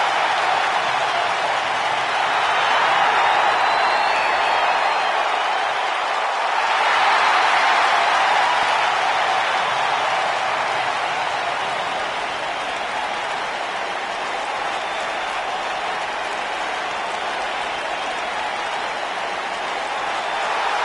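A wrestling video game arena crowd roars continuously like a wash of noise, swelling and easing slightly, loud and steady, with no distinct voices.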